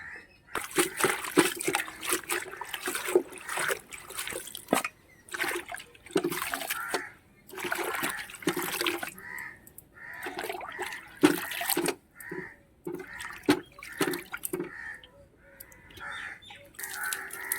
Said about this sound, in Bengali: এই তো মা সবজিগুলি ধুচ্ছে।